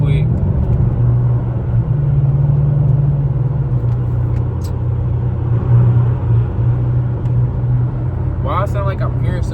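A Chrysler 300 SRT8 driving through a tunnel, its engine a loud, steady low rumble that fills the space throughout, with a brief voice near the end.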